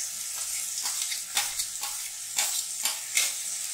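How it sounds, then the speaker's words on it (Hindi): Chopped tomatoes frying with onions in a pan give a steady close sizzle, broken by a few louder stirring scrapes and clinks that come at uneven intervals. "इसे भी हम प्याज में भूनेंगे"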